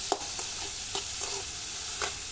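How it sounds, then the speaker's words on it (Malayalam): Fried rice being stirred in a frying pan, with a few soft scraping strokes spaced across a low, steady sizzle, heard close and without any talk. "നന്നായിട്ട് ഇളക്കി കൊടുക്കുക."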